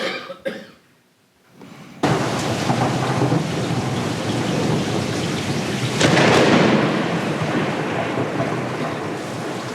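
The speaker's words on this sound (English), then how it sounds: "It was a dark and stormy night." A stormy-night effect of a thunderstorm with rain: a sharp crack and brief rumble, a moment of near silence, then loud, steady rain pouring with thunder swelling again partway through.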